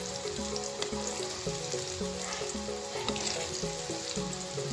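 Garlic, mustard seeds and fenugreek powder sizzle steadily in hot oil for a prawn pickle tempering, a continuous close crackle with scattered pops and no talking.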